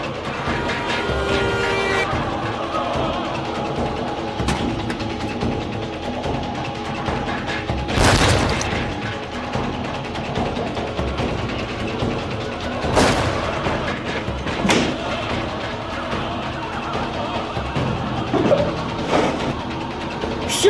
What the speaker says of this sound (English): That sounded like gunshots.